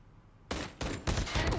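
Several sharp, loud .50 GS pistol shots ring out in Call of Duty Mobile after a brief quiet start, fired in quick succession as a few close bursts with rattling tails.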